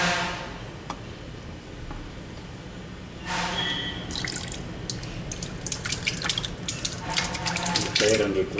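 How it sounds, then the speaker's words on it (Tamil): Two litres of curd (yogurt) poured into a Panchagavya mixture made with boiled and cooled milk, giving a wet, dripping pour that thickens after a few seconds, with faint voices in the background. "தயிர் 2 லிட்டர் ஊற்றியாச்சு."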